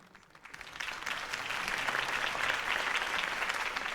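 A crowd at Harvey Dent's campaign rally in Batman: The Telltale Series breaks into applause after his speech, the clapping rising quickly from quiet to a broad, steady roar that holds to the end.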